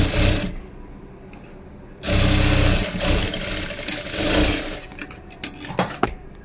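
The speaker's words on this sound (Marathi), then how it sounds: "परत त्याच्यावरती मी एक शिलाई जी आहे ती लावून घेते फिनिशिंग साठी" An electric sewing machine runs a finishing stitch along a dhoti seam, a steady close whirring hum that surges louder partway through, then slows into short bursts and clicks.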